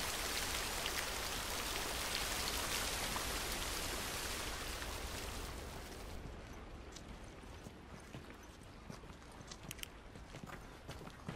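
Heavy rain hisses steadily in The Last of Us Remastered, then thins to a fainter patter with scattered drops after the first few seconds, with no talk.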